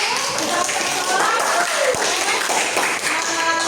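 A classroom group gives applause for the first presentation group, a continuous loud patter of clapping with voices talking over it.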